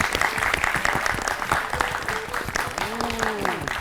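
A studio or classroom crowd bursts into loud, sustained applause after a correct quiz answer on an educational fun-learning show. The dense clapping continues for nearly four seconds while a voice is faintly heard beneath it.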